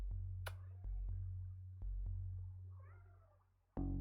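Pet cat meowing, soft faint mews over a steady low electrical hum, with a louder thump near the end.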